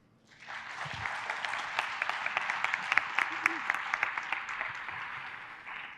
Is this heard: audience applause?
yes